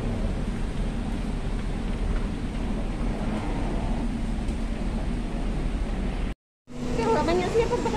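An MRT train rumbles steadily along the track, with a loud, continuous low roar of the carriage that drops out for a moment near the end and then resumes.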